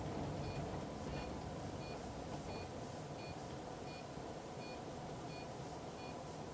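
Turn indicator on a 2008 Country Coach Intrigue Jubilee 45 motorhome with a 500 Cummins, a regular series of faint high ticking beeps, about nine, over a steady engine and cabin rumble.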